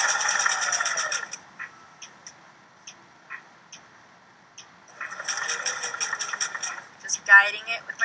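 A sewing machine back tacks on a fabric mask in loud rapid stitching bursts at the start and again near the end, separated by a quiet stretch of soft ticks, with a brief voice at the close.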